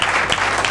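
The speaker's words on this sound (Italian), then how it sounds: "Facciamo anche a loro un applauso." A television studio audience breaks into loud, close applause, a brief dense burst of clapping with no voices over it.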